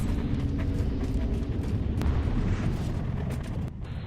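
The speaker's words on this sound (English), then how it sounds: "So I'll just show you the explosion" A large explosion in the video game Halo 4 at the end of a gauntlet mission, a loud sustained rumbling roar with crackling bursts that runs throughout and then cuts off sharply near the end.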